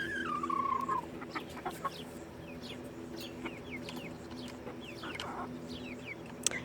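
Backyard chickens, including a Cornish Wyandotte hen, cluck and chatter in short scattered calls at close to middle distance, with a louder squawk at the start over steady low background noise.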